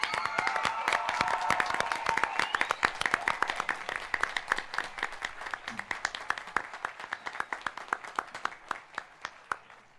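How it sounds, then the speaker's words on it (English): An audience applauds graduates at a 2025 graduation ceremony, with steady, dense clapping near and far that starts strong and gradually thins out toward scattered claps. "Please join us in a round of applause for these amazing graduates."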